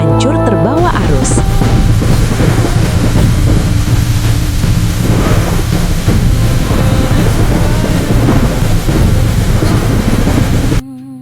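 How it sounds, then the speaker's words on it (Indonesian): A raging storm in a flood scene from an animated story of Noah's ark, with thunder and heavy rain as a loud, dense, continuous roar that fills the whole stretch before cutting off at the end. "Di luar badai semakin dahsyat."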